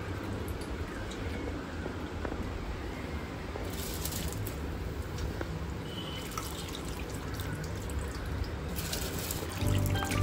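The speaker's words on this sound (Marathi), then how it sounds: "आता पाणी चांगलं उकळलेलं आहे, तर आपण हे भिजवलेलं तांदूळ त्याच्यामध्ये टाकू।" Soaked rice tipped into a pot of boiling water, giving a steady watery bubbling and trickling hiss with light splashes, continuous and fairly close, with no talking.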